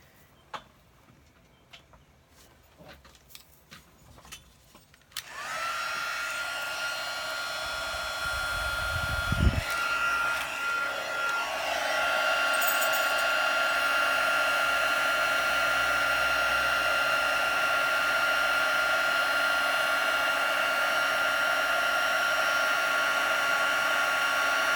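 A heat gun blows hot air to melt embossing powder on a handmade card. After a few seconds of small clicks and handling, a loud steady whooshing hiss switches on and runs continuously to the end.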